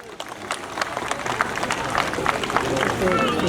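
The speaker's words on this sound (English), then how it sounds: "How about a round of applause for Midnight?" A small audience breaks into applause, scattered claps quickly building into steady clapping that grows fuller and louder.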